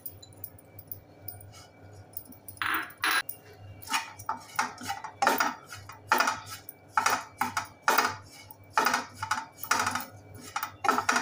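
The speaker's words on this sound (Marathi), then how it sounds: "आता आपण सुकं खोबरं भाजून घेऊया।" Dry grated coconut roasting in a pan for Malvani onion-coconut masala paste, heard as repeated scraping and clattering strokes of a spatula against the metal, steady and close, with a low hum underneath and no talk.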